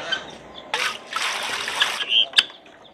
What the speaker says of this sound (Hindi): अभी ना इनको पानी रख देते हैं।